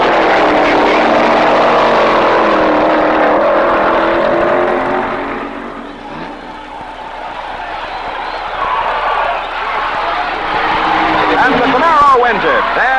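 A 1967 drag race at the NHRA Nationals between a 67 Camaro and a 57 Chevy wagon: loud engines roar and rev, dip briefly midway, then swell and climb again, with a voice talking over them.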